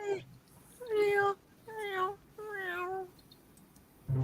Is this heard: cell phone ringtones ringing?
no